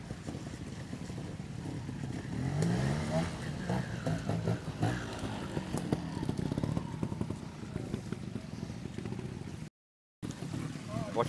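A trials motorcycle rides through a section at a Castleside club trials event in the North East, its engine burbling and revving fairly close and loud, with voices around it and a brief dropout near the end.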